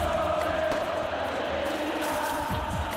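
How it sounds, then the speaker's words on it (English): A huge stadium crowd roars and cheers for Boca Juniors before a match against River Plate, a dense unbroken wall of voices and applause filling the space without a break. "the thunderous applause that greets Boca"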